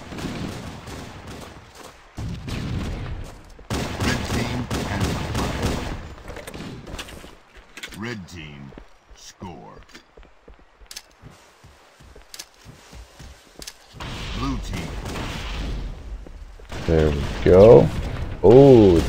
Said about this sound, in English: They started throwing frag grenades where I was gonna run through